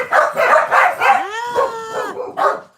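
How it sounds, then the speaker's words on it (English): Several dogs bark loudly and repeatedly in a quick run, with a rising whine or howl mixed in partway through, all close and clear indoors. "crazy dogs, uh-oh. Hey, stop barking."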